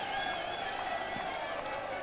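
Football crowd of just under 3,000 at an FA Cup match, applauding and cheering as the teams come onto the field: a steady wash of distant clapping and crowd roar, with a voice talking over it.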